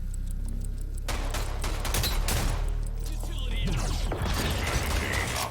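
Gunfire in the online shooter Rogue Company, with rapid bursts of shots, mechanical clatter and impacts following an opening low rumble, mixed with faint game voices.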